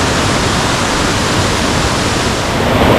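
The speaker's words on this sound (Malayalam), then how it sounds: "അവിടെ ഒരു ചെറിയ വാട്ടർഫോൾസ് ഉണ്ട്" A small waterfall near Kuttikkanam pours with a loud, constant broadband rush of falling water, heard close and unbroken with no voices.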